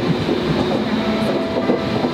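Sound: train passing by

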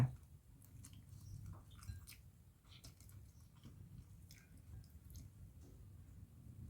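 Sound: person chewing food while eating

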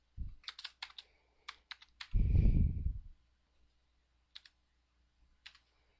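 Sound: typing address information on a computer keyboard

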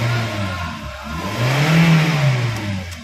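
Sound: Daihatsu Terios car engine running

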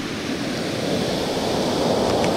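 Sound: heavy ocean waves breaking at Marina, California

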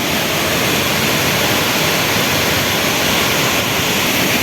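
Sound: waterfall

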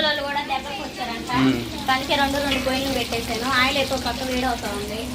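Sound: chicken frying in oil in a pan

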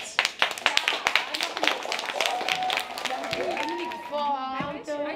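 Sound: applause for girls' football team

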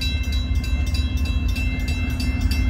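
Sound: train passing

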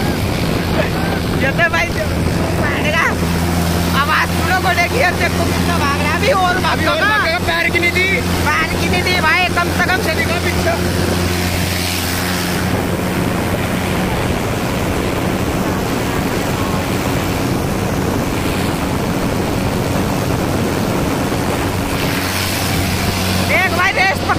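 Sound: Mahindra 575 and Powertrac Euro 47 tractors racing on road

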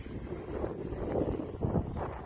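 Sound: Piper model airplane flying on maiden flight

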